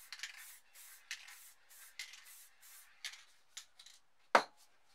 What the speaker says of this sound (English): now for the shadow, which we'll use black spray paint and spray it here